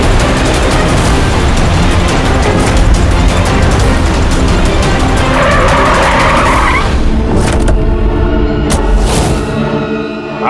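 A car races along with tires skidding and squealing, a loud continuous engine roar and screech that fades out near the end, leaving a few sharp clatters.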